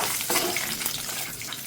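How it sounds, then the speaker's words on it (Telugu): Oil sizzles with a tempering of chana dal, urad dal, mustard seeds, cumin, two dried red chillies, chickpeas, asafoetida and curry leaves, a steady, close, hissing crackle with no pauses. "తాలింపు వేగింది"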